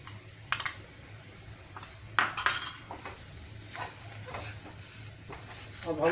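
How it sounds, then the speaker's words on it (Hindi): A spatula scrapes and clinks against a pan while sattu (roasted gram flour) filling for litti is stirred, with soft irregular taps and a couple of sharper knocks over a low steady hum. "इसको दो मिनट तक चलाएंगे इस तरह से"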